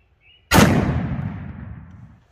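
A single close, loud rifle shot from a .400 Legend firing Sellier & Bellot 130-grain copper hollow points at a gel test, a sharp crack followed by a long rolling boom that decays over nearly two seconds outdoors.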